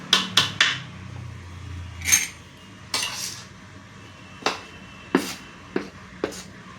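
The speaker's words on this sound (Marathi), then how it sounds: "आता हे चांगलं मिक्स करून घेऊया" Banana vada batter of mashed banana and flour being mixed in a bowl, a spoon knocking against the bowl in several sharp, irregular clinks and taps, fairly faint with quiet gaps between.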